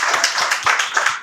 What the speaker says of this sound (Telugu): వీళ్ళు చప్పట్లతో మీకు స్వాగతం తెలియజేస్తున్నారు